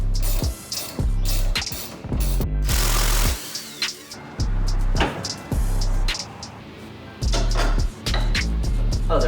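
An impact tool works on a sway bar end link bolt on a Mazda Miata ND: loud, close, repeated bursts of rapid hammering, each lasting about a second, separated by short pauses and ratcheting clicks.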